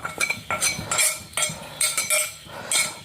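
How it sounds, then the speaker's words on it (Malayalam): A utensil stirs chili powder into a dish in a metal pan, giving quick clinks and scrapes in uneven bursts, close and fairly loud. "എന്നിട്ട് നമ്മളിത് ഇങ്ങനെ കൊണ്ടുവന്ന് എടുത്തിട്ട് ഒന്നുകൂടി ഇളക്കണം."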